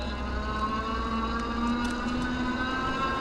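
Lectric XPress 750 commuter e-bike riding on pedal assist level 2, a steady motor whir with a faint rising whine over continuous wind and road rumble, with no talk.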